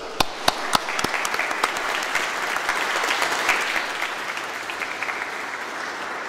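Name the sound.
applause for the Štiglic family quartet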